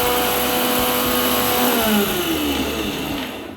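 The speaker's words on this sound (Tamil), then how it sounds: "இப்போ இதை மிக்சியில் போட்டு பவுடர் பண்ணி எடுத்துக்கலாம்" A mixer grinder blends fried pepper chicken base masala into powder, a steady loud motor whine with a shifting pitch that slowly winds down toward the end, with no talking.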